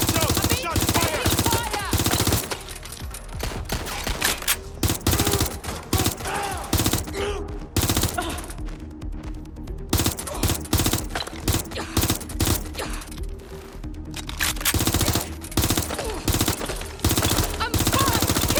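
Dense, continuous firefights in the video game Watch Dogs: Legion, with rapid automatic bursts and overlapping shots throughout, loud and close, while voices shout in the background.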